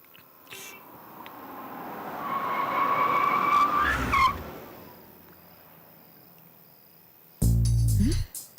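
A car skids and brakes to a halt on a street in an Indian action film, a rising tire squeal sweeping up to a loud peak, then cutting off, followed by quiet and a sudden heavy thud.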